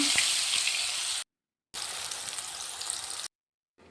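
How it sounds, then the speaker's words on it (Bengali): Steady, hissing sizzle of green plantain frying in hot oil, close up, cut by two brief silent gaps. "বড়া ভাজা হয়ে গেছে, তাই কাঁচকলা আমি ভেজে নিচ্ছি এখানে।"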